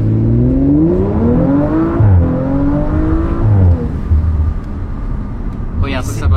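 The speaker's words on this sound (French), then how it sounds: "Mais bon V6 quoi. Le bruit est hyper doux." 2018 Audi RS4 with a V6 engine accelerating up through the gears, its loud smooth revs rising and dropping at each shift, with people talking over it.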